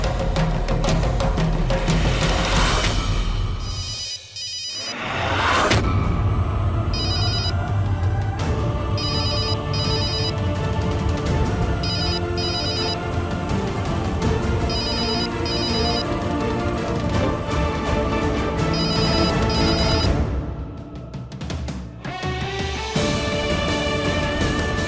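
A telephone ringing repeatedly in a rhythmic pattern of bright ring bursts, set amid a busy, loud backdrop of music and dramatic sound, continuing for a long stretch without speech.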